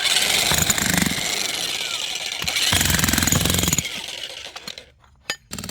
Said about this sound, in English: let's see what the jackhammer thinks